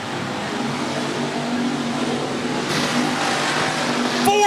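Race cars roar four wide down the front stretch at a dirt-track Smackdown event, a dense steady engine din heard from the stands that swells slightly toward the end.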